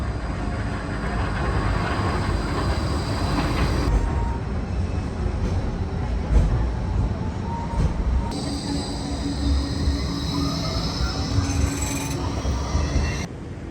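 A tram at Broadbeach South station rumbles steadily and loudly nearby, with faint wheel squeal and high metallic tones rising near the end.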